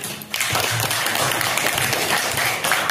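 A classroom of students clapping together as a round of applause, a dense, steady burst of hand claps heard up close from start to finish with no talking.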